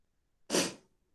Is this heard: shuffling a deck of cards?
no